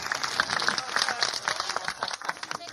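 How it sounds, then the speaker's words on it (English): Audience applause for a guitarist at a comedy club show, a dense steady patter of many hands clapping at moderate distance, continuing evenly throughout. "How about a big round of applause for Mr."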